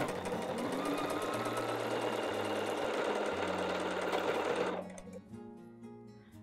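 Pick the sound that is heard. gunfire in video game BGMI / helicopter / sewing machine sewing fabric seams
sewing machine sewing fabric seams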